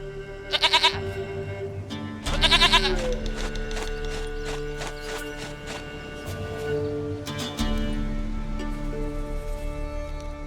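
Goat bleating in The Witcher 3, a few short wavering bleats near the start and again around the middle, mixed with hoof-like clopping, music and game ambience, with a voice talking over parts of it.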